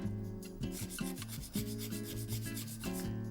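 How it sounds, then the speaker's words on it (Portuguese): Nail file working along the side wall of a fingernail, giving quick, repeated rasping strokes in a steady back-and-forth rhythm, close and fairly quiet with no talk. "Vamos limar a parede lateral a direito, sem destruir o nosso ponto zero"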